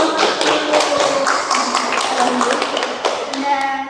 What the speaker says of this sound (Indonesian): sudah tepuk tangan untuk